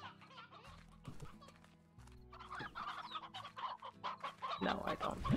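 Chickens cluck in a slime-ranching video game, several overlapping bird calls and busy game sounds with background music, growing louder and denser toward the end.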